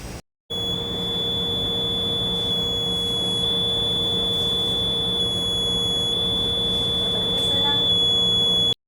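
An automatic fire alarm system, checked after repair, sounds a continuous, steady, piercing electronic buzzer tone for around eight seconds over background noise.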